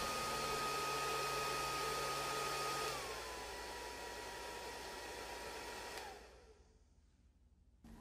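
A hair dryer blows a steady loud rush of air into a tube aimed at a small curved glass tube, its whine dropping in pitch partway through before the motor cuts off and winds down.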